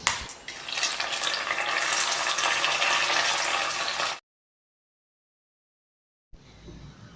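Hot tempering with curry leaves poured into a toor dal and drumstick curry, giving a loud, steady sizzling hiss for about four seconds before cutting to silence, then a faint return of low noise.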